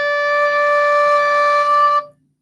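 A single low D is held softly on a wind instrument for about two seconds, a steady clear tone with gentle harmonics that stops cleanly. There are no voices.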